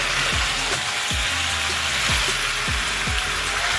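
Tomato sizzling and frying in a pan with chicken for a stew, a steady bubbling hiss with small scattered pops throughout, close and continuous.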